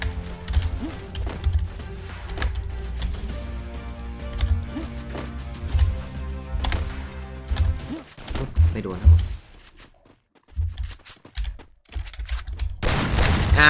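Rapid blasts from an Evo shotgun in a video game, fired in quick succession amid crashes and impacts, followed by a short lull and renewed loud bursts, with a commentator talking over it.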